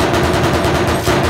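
Rapid automatic gunfire rattles in the Arma Reforger military game, a dense continuous burst of shots, loud and close, filling the whole short moment without talk.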